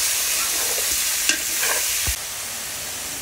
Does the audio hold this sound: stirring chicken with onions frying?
yes